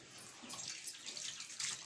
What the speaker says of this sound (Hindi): पानी